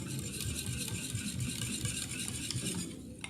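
Whisk or spoon stirring a milk, egg yolk, sugar and cornstarch mixture, a steady rhythmic scraping and sloshing repeated at a brisk pace, close and moderately loud with no voices.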